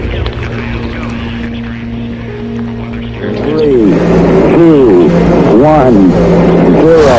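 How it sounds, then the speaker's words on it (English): Rocket engines roar at launch liftoff, a broad rumbling surge that builds at about three seconds and then holds loud and steady, with a countdown voice and excited speech over the noise. "All engine running. Liftoff. We have a liftoff."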